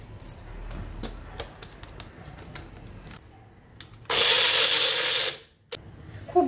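Star fruit with a little water whirs in an electric mixer grinder jar. It gives one loud, close burst of blending that lasts just over a second, after some quiet clinks and clatter as the jar is handled.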